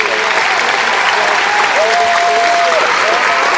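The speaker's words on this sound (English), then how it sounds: "Give me a warm round of applause for Keziah and Isaac." Steady, loud applause from a large crowd at a high school graduation ceremony, dense clapping filling the whole moment without pause.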